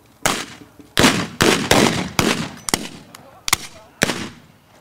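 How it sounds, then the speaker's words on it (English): Percussion small arms fire at a pirate reenactment: about nine sharp, loud outdoor gunshots in an uneven sequence, each with a short echoing decay and a few nearly overlapping. "Percussion small arm, are you ready? Aye. Fire in the hole."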